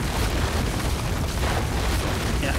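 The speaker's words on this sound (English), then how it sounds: "Now, I'm gonna destroy every single building I can." A building being destroyed in the video game Rome: Total War: a loud, sustained rumbling crash and roar filling the whole stretch without pause, with no voices.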